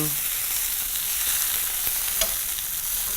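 Bone-in chicken thighs fry in a pan for a honey garlic dish, giving a steady, close sizzle with a couple of brief scrapes as the pieces are moved around, no voices.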